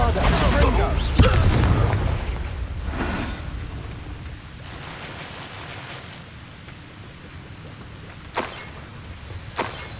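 Spell blasts of Confringo and Bombarda in the video game Hogwarts Legacy, rumbling booms and a crackling rush early on, then a few sharp hits later, with a voice calling out over the action.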